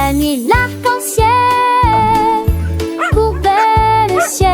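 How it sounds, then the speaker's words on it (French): A children's song carries repeated puppy barks and yips in a bouncy rhythm, each short bark landing between sung, melodic lines over a loud, busy musical backing. "Il aboya sur le rouge et cria sur le bleu"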